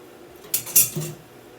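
Metal pot lid set over a skillet of sausage pasta sauce, a couple of quick clanks and a short rattle, close and clear, with no talking.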